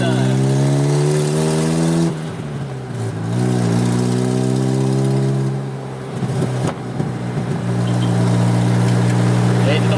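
A Honda Civic EF with a swapped K24 engine accelerates hard, its rising engine note climbing through gear changes with brief dips, loud and close from inside the car, with people talking over it.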